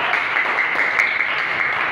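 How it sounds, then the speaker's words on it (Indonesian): A grade seven classroom bursts into steady, close clapping that holds at an even, dense level throughout, with no voices standing out. "Oke, tepuk tangan dulu."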